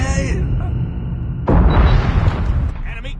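A grenade goes off in the Call of Duty video game, a single sudden loud blast about halfway through that rumbles on with crackling debris, following a steady background hum of game ambience.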